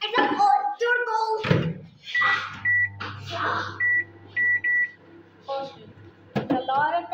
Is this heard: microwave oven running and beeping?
yes